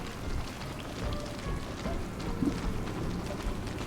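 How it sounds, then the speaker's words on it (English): Steady rain falls in a blocky survival-building game on day 8 of a solo megabase world, a continuous soft hiss of drops with no talk. "Lori, it's raining right before summer."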